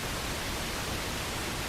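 Pink noise playing from a phone speaker, an even, unbroken broadband hiss filling the whole moment at steady loudness with no other sounds.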